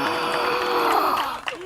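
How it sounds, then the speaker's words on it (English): Audience applause and cheering at a live show held outdoors in a jungle setting, a loud dense crowd roar with whoops that swells steadily and then drops off near the end. "round of applause for Mr. Pete."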